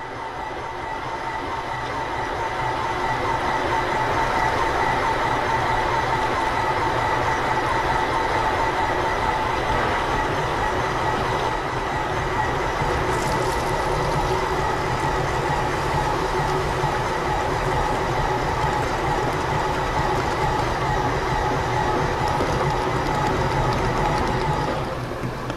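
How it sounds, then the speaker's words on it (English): A ToughTek S340e piston pump runs at full speed alongside its mixer at a set speed, giving a loud, steady mechanical drone with a continuous hum and rumble throughout, no talking. "So the pump is running full speed, the mixer is only at the set speed"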